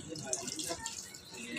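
Vinegar poured from a container into a pot of tilapia paksiw, a steady splashing liquid stream with a voice talking over it.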